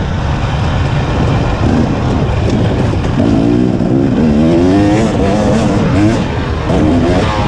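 A KTM 300 XC-W TPI or Husqvarna TX300 two-stroke dirt bike rides along a gravel road, its engine droning and rising and falling in pitch with throttle, close and loud, with wind rush and crunching gravel beneath.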